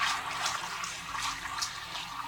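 Water being poured into an E3 electrocoagulation water remediation system, a steady splashing trickle with a few brighter surges, moderately quiet and without talk.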